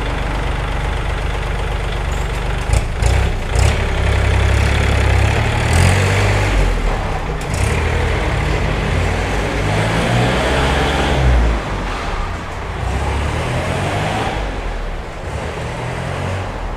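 A 2019 Kubota L4018 tractor with front loader and three-disc plough, its diesel engine running steadily with a knocking idle and a few revs, loud and close, no talk.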